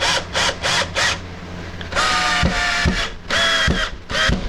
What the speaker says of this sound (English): this drill is not cutting it